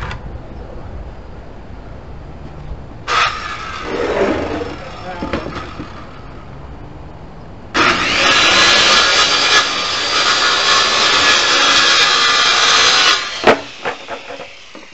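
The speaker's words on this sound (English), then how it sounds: "Neighbors love to hear that radial saw on Sunday morning." A radial arm saw cuts through wood, first a short rough burst, then a louder sustained whine-and-rasp pass lasting several seconds before spinning down, with background noise and some talking.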